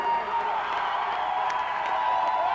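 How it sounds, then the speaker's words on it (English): Crowd noise at a rock and roll softball championship, a steady wash of cheering and whoops that holds loud and continuous throughout, with a few brief higher shouts rising out of the din. "And the crowd goes wild."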